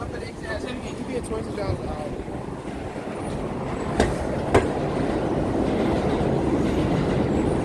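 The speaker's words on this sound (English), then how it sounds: "And the subway there, the usual sounds in New York City." A New York City subway train rumbles steadily nearby at West 55th and Broadway, its dense low roar filling the scene with a couple of sharp metallic clacks partway through and faint voices in the background.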